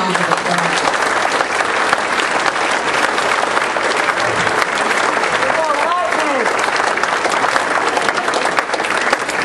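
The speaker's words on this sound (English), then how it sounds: "let's give them a big round of applause" Sustained, dense applause from an audience at an award ceremony fills the room loudly and evenly throughout, with a few voices briefly audible beneath the clapping.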